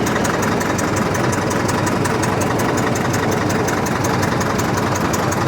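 Caterpillar D4 bulldozer's small pony starting motor idling loud and close, a continuous rapid rhythmic chugging with a steady metallic clatter, unchanging throughout with no voices.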